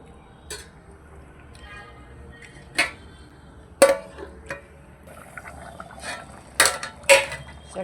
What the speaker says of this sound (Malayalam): ഇനി നമുക്ക് ഈ ചട്ടി ഒന്ന് നല്ലപോലെ ഒന്ന് ചുറ്റിച്ച് വെച്ച് കൊടുക്കാം